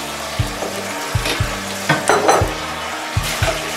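Flat rice noodles stir-fried in a hot pan give a steady close sizzle, broken by repeated scraping and tossing strokes of a utensil against the pan, with no voices.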